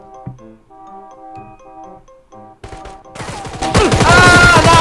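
Gunfire in the mobile battle-royale game Knives Out (荒野行動): a dense burst of shots erupts midway and builds into loud, sustained firing over the game's background sounds.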